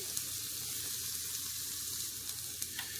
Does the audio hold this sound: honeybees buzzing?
no